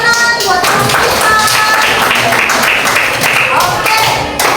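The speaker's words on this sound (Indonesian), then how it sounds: "Tepuk tangan buat kita." A group of children claps together at an indoor gathering, a loud run of overlapping hand claps with a few voices calling out above and between them.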